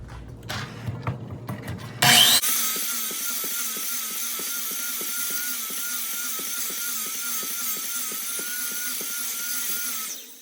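A miter saw cutting repeated kerfs through wood for a lap joint: a short loud bite into the workpiece, then a steady whirring blade with a rhythmic ticking pattern running on for several seconds.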